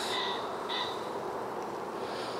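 Honey bees in a top bar hive give off a steady, dense buzzing drone, close and continuous, with no talking.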